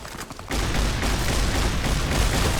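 Shotgun fire in the game Fallout New Vegas, a loud dense burst of gunfire that starts after a short quieter moment and continues without a break.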